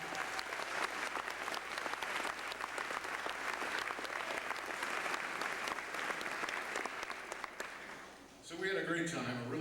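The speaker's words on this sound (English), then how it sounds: "So once again, a round of applause for the Rancho Buena Vista Marching Band" A crowd applauds the Rancho Buena Vista Marching Band at a release party, a dense, sustained wash of clapping for about eight seconds before it fades out and a voice begins talking.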